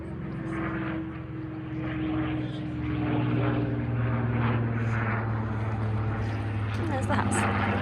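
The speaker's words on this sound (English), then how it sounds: "Spitfire." A Spitfire propeller plane passes over a country estate, its engine drone swelling louder toward the end as people talk nearby.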